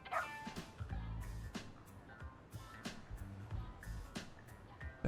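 A dog in the video game Lost Judgment gives a series of soft barks and yips at an irregular pace, fairly quiet and close, with faint whimpering mixed in.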